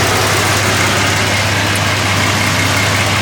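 Ford Raptor truck engine idling after a turbo install, a steady low rumble with constant hiss, close and even throughout with no voices.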